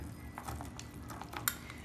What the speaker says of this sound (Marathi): हा गूळ आपण या पंचामृत मध्ये चांगला एकजीव करून घेऊया।